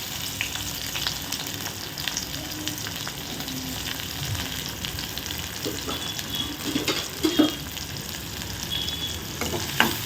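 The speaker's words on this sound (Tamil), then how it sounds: "நல்லா பொரியட்டும்" Steady sizzling of chopped onion and green chili frying in a hot pan, continuous and close, with occasional louder spatters and no talking.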